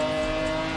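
A McLaren F1 GT's engine holds a steady, loud, high-pitched rev just after a downshift in Forza Horizon 4, a dense continuous drone with a strong harmonic whine and no speech.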